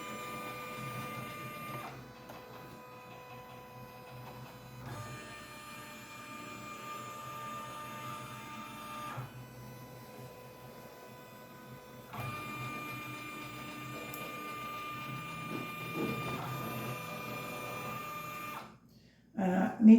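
An embroidery machine stitches a heat transfer vinyl appliqué design on a shirt, giving a steady mechanical hum with tonal whine that shifts pitch every few seconds across the stitching passes, close and continuous with a brief stop near the end.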